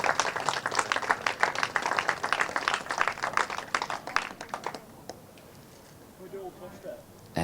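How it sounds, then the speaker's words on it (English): Applause for the Junior Rotax finalists at a British Kart Championship meeting at Whilton Mill: a crowd claps densely and steadily for about five seconds, then it drops to quiet background noise with faint murmurs. "Please, a huge round of applause for your finalists in Junior Rotax."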